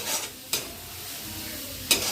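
Green peas frying in a pan for an egg and pea curry, a soft sizzle broken by two quick scraping stirs of a utensil against the pan.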